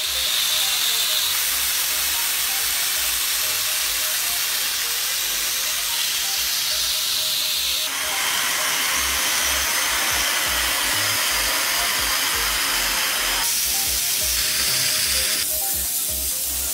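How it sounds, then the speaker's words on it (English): An upholstery vacuum cleaner working over a sofa, giving a steady, loud hissing whoosh that runs without pause, its tone shifting slightly as the nozzle passes over the fabric. "The advantage of an upholstery vacuum cleaner is that it allows you to clean the surface in one go"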